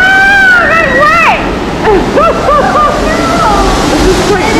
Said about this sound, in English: So the first part, you walk up like a waterfall thing.